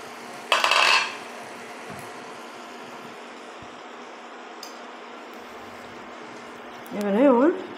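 A cooking pot holding doi chingri, prawns in yogurt, has its lid lifted off with a short metallic clatter. Quiet kitchen noise follows, and a voice speaks near the end.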